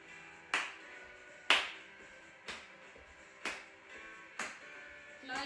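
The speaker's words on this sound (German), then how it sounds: "Das fängt an mit dem Klatschen." Hand claps for a children's dance class ring out as six sharp, evenly spaced single claps about one second apart, crisp and close in an otherwise quiet room.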